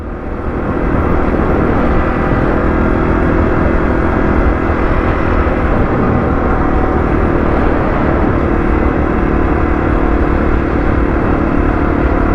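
Motorcycle engine heard while riding, a continuous loud drone with steady wind and road noise that holds evenly for about twelve seconds after a short rise at the start.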